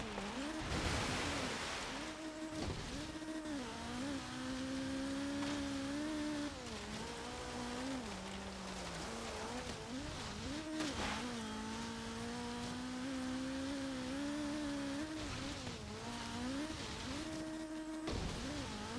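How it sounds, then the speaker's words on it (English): A 1984 Opel Manta 400 in the racing game Forza Horizon 3 drives through water, its engine droning and wavering in pitch under splashing bursts, steady and moderately loud with no talking. "it's not able to go all that fast through the water, as you can see"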